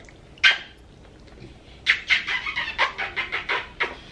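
A new puppy gives a single sharp yap, then after a pause a quick run of about nine high-pitched little yelps and whines, close by and fairly clear over a quiet room.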